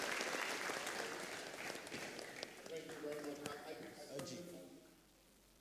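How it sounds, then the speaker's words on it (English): Audience applause at the closing of a conference, loud clapping that tapers off as an announcer's voice speaks over it, then fades to near silence. "A round of applause for Mr. Biodun Famojuro"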